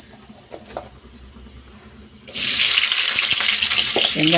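Chopped onions land in hot oil for kurma and a loud, steady sizzle starts about halfway through, after a quieter stretch of faint kitchen clatter.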